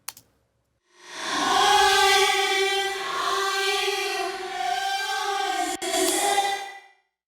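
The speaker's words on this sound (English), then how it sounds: "I'm running it through the reverse setting on this reverb." A distorted, compressed vocal in Pro Tools processed with a reverse reverb, the washed tail swelling up smoothly after a brief click, then holding sustained tones before fading out in about seven seconds.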